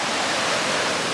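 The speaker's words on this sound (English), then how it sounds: "walk out here, out to the river. Flowing down." River water flows steadily with a dense, broadband rushing wash, loud and continuous like a small cascade, with no voices over it.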